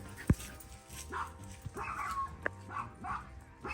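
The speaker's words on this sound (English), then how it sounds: "I'll add in some footage of the dogs playing at the park" Dogs playing at an outdoor dog park, with close, scattered yips, short barks and whimpers over a low background hum.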